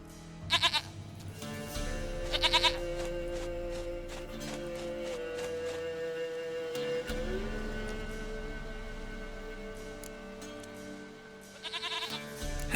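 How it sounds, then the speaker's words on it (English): Goat in the Witcher 3: Wild Hunt game, bleating loudly in a few sharp, quavering cries near the start and again at the end, over a steady droning game soundtrack. "Goat of mine, dearest, sweetest goat."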